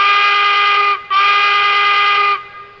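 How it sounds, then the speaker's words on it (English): A loud, shrill steam whistle from a Lionel American 4-4-0 brass hybrid model train blows twice, a short blast then a longer one, bright and close. "Same whistle."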